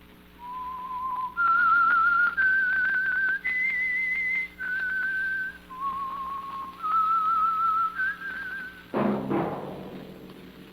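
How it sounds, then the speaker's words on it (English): A lone melodic whistle carries the theme of the old radio drama The Whistler for the Signal Oil Program, climbing and falling through sustained phrases. A loud, sharp burst near the end cuts it off. "That whistle is your signal for the Signal Oil Program, The Whistler"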